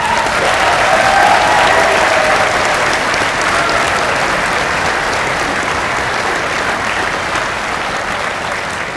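A large audience at a white coat ceremony for medical students applauds steadily, a dense, loud wash of clapping that continues evenly for the whole stretch.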